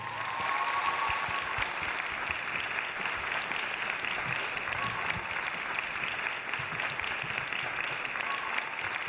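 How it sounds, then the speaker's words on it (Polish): Sustained applause from a gala audience at a Miss Polski Ziemi Łódzkiej 2013 beauty pageant, welcoming a band; dense, steady clapping fills the whole stretch with crowd noise and no break. "Brawa dla nich poprosimy."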